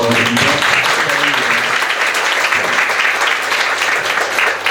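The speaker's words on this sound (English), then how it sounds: "Let's give us a round of applause for" Loud, continuous applause fills the hall after a Buddhist Dharma talk, many hands clapping together, with a voice briefly audible at the start beneath it.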